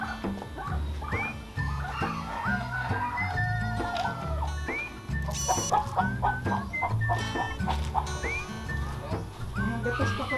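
Free-range chickens clucking and crowing inside a breeding coop, many overlapping calls and squawks close by, with a dog barking among them.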